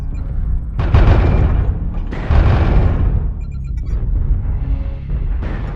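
PPC shots in MechWarrior Online fired from a Marauder IIC mech, heard as heavy, booming energy blasts that come in loud overlapping surges with rumbling low end and crackling tails, with no talking over them.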